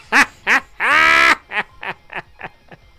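Chickens in a Zelda-style video game give a run of loud squawking calls, one drawn-out cry among short clucks that fade in strength, heard alone without talk.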